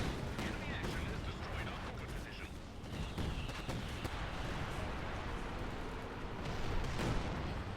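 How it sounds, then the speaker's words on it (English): Bombing run and anti-aircraft fire in the video game Company of Heroes 2: a dense, steady roar of distant blasts and rapid gunfire rolling on without pause, fairly faint and continuous. "So I'm just going to stand up and watch as they lose 1, 2, 3, 4, maybe 5 bases in one bombing run"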